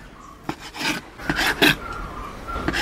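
A knife slices squid into small pieces on a board, giving a few short rasping cuts and scrapes at an irregular pace, close by with no talking.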